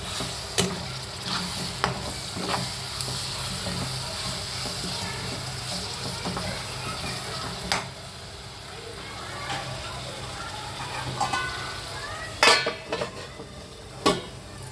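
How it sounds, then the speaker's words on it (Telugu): Steady sizzling of masala frying in hot oil, with coriander seeds, cloves and cinnamon, and occasional metal scrapes and clinks of a spoon stirring in a pan. "ఆయిల్లో బాగా ఫ్రై అవ్వాలండి"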